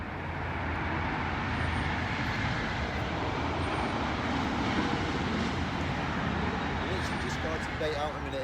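A train rumbles past alongside a carp fishing pond, a loud, steady broadband roar that fills the whole stretch and masks quieter sounds, with faint speech underneath.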